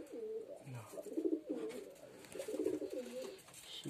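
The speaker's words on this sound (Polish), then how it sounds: "czego gołębiu dziadka nie chce wchodzić" Homing pigeons at a loft cooing close by in soft, repeated throaty rolls, several overlapping calls over a few seconds with faint background noise.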